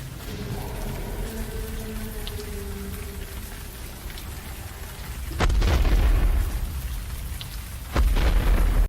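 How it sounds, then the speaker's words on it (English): Steady rain pours at night in a dinosaur fan-film scene, a dense hiss with low rumbling, broken by two sudden loud thunder-like booms near the end. "He soon wakes up later that night to pouring rain."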